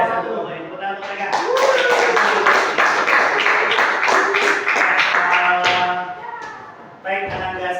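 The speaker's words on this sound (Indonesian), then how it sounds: "beri tepuk tangan untuk mereka" Audience applause for a group after a presentation at an Islamic da'wah class event, a dense burst of clapping swelling quickly, holding steady and loud for several seconds, then thinning out with a few scattered claps and voices at the end.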